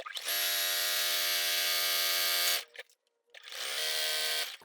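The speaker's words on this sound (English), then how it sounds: "Now we're going to go ahead and do a top stitch all the way around this little Crayola roll-up." A sewing machine runs a top stitch around the edge of a small fabric crayon roll-up, a steady close motor whir for over two seconds, a brief pause, then another sustained run.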